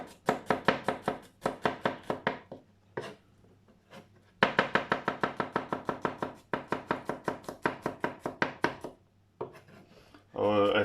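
A knife chops garlic on a board for a razor clam Thai green curry, a steady run of close, crisp rhythmic chops broken by a brief pause before a second burst.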